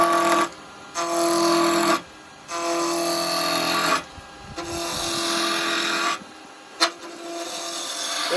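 A gouge roughs down a spinning top blank on a wood lathe in bursts of harsh scraping and rasping, with four separate cuts broken by short pauses where the spinning stock keeps humming.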